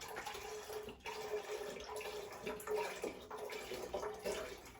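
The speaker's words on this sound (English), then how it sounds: "So here's the second box of stock going in." Vegetable stock from a carton pours into a soup pot for crab soup, a faint, steady splashing trickle with small gurgles and liquid bubbling throughout.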